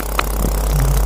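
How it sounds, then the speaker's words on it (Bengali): A boat engine runs at low throttle on a riverboat, a steady close, loud drone with a low hum and a few brief clattering knocks. "ইঞ্জিনের সাউন্ডটা খুবই কম দেওয়া হইতেছে"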